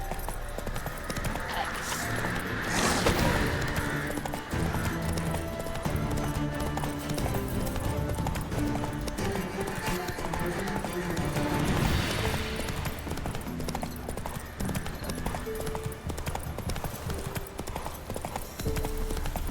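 A horse gallops in The Witcher 3, its rhythmic clip-clop of hooves loud and continuous throughout, over game ambience and music.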